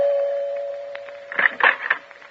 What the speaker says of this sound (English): I had to back up and take a running start to press the doorbell